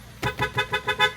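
A car horn sounds in five short honks at an even rhythm, loud and close, with no other sound around it; the horn belongs to a car whose clock spring had failed and left it without a horn.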